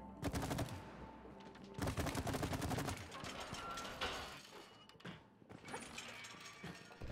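Rapid bursts of video game gunfire, clustered machine-gun-like volleys with brief pauses between them, fairly loud and close, with faint mechanical clatter in the gaps.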